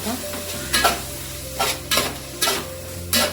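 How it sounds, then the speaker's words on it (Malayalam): Spices, chili powder and turmeric, are stirred into a frying beef mixture, with a constant sizzle broken by four or five scraping strokes of a spoon against the pan at an even pace. "മുളക് പൊടി ഇട്ട് നന്നായിട്ടൊന്ന് മിക്സ് ചെയ്ത് കൊടുക്കാം"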